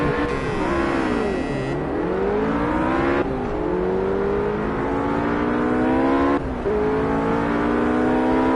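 Race cars in a racing video game screaming around the Nürburgring in fog and rain, engines climbing through the revs with sharp gear shifts and changing pitch, loud and close with no talking.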